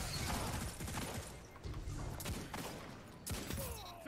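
Pulse rifle fire in the Destiny shooter game comes as dense, continuous bursts of rapid shots that fill the whole stretch, with brief dips between volleys and no talking.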